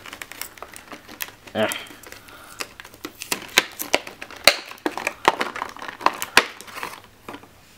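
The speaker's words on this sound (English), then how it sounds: "let's see if I can get this open. There's a little bit of tape getting in the way here." A taped plastic package, made purely of plastic, is opened by hand with bursts of crinkling, crunching and tearing close to the mic, broken by short pauses while someone talks over it.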